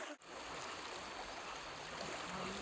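Floodwater rushing across a submerged road at night, a steady broadband roar of flowing water heard alone after a brief dip at the start.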